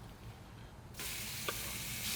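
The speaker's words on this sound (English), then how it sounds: "Ooh, don't you love that sizzle?" Fajitas hit a hot griddle next to cooked bacon, and a sudden loud sizzle bursts in after quiet kitchen hum, holding as a steady bright hiss with a small pop.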